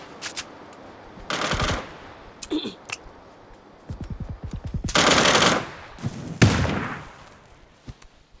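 Automatic gunfire in a shooting video game, with loud rapid bursts and single shots spread over the stretch, some fast rattling volleys, a few separate cracks, and a brief voice in between.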